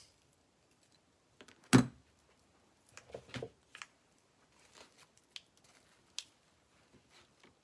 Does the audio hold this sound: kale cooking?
no